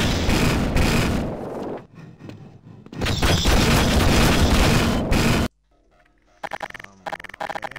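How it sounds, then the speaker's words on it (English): A turret firing in Half-Life, loud sustained bursts of rapid booming shots broken by short lulls, then quieter clipped pops near the end. "So I'm guessing that's some kind of new turret."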